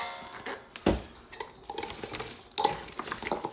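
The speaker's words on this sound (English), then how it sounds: "We're just going to mix everything up." Zucchini slices tossed with salt and vinegar in a bowl, heard as irregular clinks, taps and soft wet shuffling of a utensil against the dish, close and fairly loud, with no talk.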